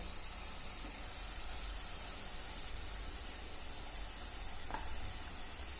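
Cumin seeds sizzling in hot oil for palak paneer, a faint, even hiss that stays steady with no voices.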